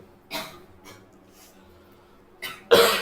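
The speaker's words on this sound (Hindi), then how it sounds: "सब खांस रहे हैं।" Coughs break out among students during a solid mechanics lecture in a classroom: one near cough, a faint one, then two louder harsh bursts at the end over a quiet room.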